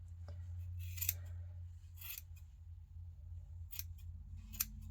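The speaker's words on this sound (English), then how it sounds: "if you have crappy scissors, you can cut less yarn at a time" Four crisp snips of scissors cutting through yarn, spaced about a second apart, over a low steady hum.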